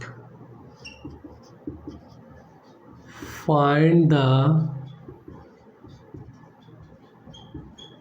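A marker squeaks across a classroom board as a question is written out, producing a single loud, pitched squeaking stroke for about a second, with a teacher talking quietly around it.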